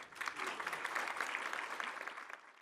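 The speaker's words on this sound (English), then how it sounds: "Please give Alan Smith a round of applause." An audience at a forum panel session claps in sustained applause for a few seconds, fairly dense and even, fading out at the end.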